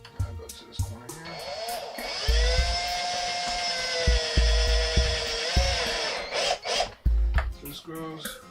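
A power driver whirs with a rising, sustained motor whine as it drives a screw into a tub, with thumps and knocks around it and a brief voice.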